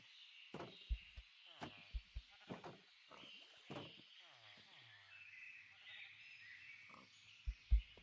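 Minecraft sheep bleat a few times in a village, short nasal cries spaced across the moment, with a player talking over the game sounds and faint background music.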